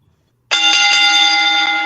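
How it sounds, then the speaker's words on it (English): A bell rings sharply after a moment of silence, its bright sustained tone sounding loud and close and holding steady with slight rapid pulsing. "Go ahead and ring that bell."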